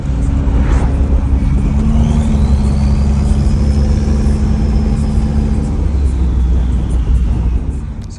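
A 1998 Mitsubishi Eclipse Turbo driving on the road, a steady droning engine and road rumble heard from inside the cabin with a faint rising whine, continuous and fairly loud before easing off at the very end.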